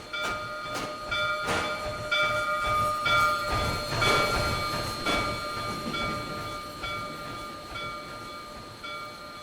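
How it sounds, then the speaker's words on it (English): The steam locomotive Saratoga & Western 809 rolls through a rail yard, its whistle or horn sounding in several steady tones over rhythmic clanking and rumbling at fairly close range, with no voices. "The locomotive then enters the yard to pick up her 4-car train."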